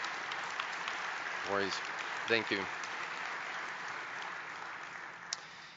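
An audience at a presidential address gives steady, moderately distant applause. Someone speaks briefly over the clapping.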